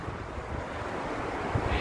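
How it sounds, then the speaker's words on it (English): The waterfall at Idaho Falls, Idaho, a continuous broadband roar of rushing water with wind buffeting the microphone, steady and close. "These are the falls that make Idaho Falls famous."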